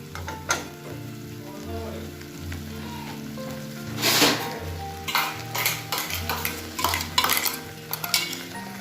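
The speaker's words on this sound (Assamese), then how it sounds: "এতিয়া এই ভাজি থকা পিঁয়াজখিনিত মই পেষ্টটো দি দিম তাৰপিছত আকৌ ভালদৰে এইখিনিৰ লগত মই সেই পিঁয়াজখিনিৰ লগত পেষ্টখিনি ভাজিম" Onions and spice paste frying in a pan, with steady sizzling under repeated scraping and stirring strokes of a utensil against the metal, close and clear with no talk.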